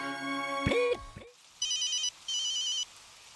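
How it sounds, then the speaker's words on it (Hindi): An incoming call rings in a family home at night. A short tonal burst is followed by two clear, evenly spaced electronic ring bursts, close and moderately loud, with no talk. "हेमंत का फोन इस वक्त?"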